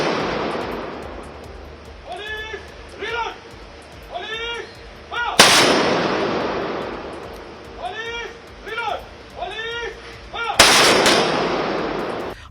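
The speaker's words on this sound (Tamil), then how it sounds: "தொடர்ந்து காவல்துறையினரின் துப்பாக்கி குண்டுகள் முழங்க EVKS இளங்கோவனின் உடலுக்கு அரசு மரியாதை வழங்கப்பட்டது" Police fire gun salute volleys at a state funeral in Tamil Nadu, two sharp, loud blasts several seconds apart, while a news voice talks throughout.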